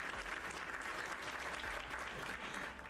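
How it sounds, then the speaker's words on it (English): A brief, quiet round of applause plays during a Minecraft livestream, a steady hiss of clapping lasting a few seconds with no voice over it. "I'm gonna give another round of applause to Bacon, who was the first one in chat"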